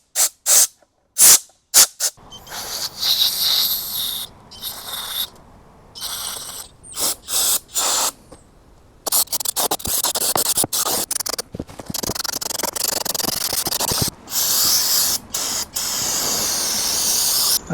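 Brake cleaner sprayed onto an engine in loud, close hissing bursts, short and broken at first, then longer sustained blasts with brief gaps.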